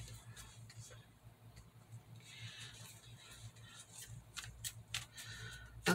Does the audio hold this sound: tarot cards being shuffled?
yes